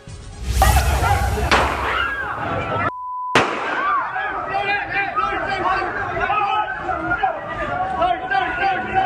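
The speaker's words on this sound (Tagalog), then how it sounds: "warning shot lang daw yun para matigil ang gulo" A police officer fires a gunshot during a bar brawl: a sharp, loud bang is followed by a second crack, then a crowd of people shouting and chattering continues steadily over the noise.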